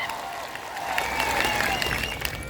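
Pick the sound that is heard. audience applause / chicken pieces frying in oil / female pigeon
audience applause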